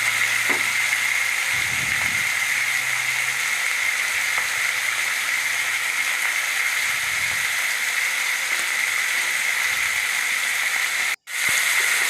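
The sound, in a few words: potato pieces frying in oil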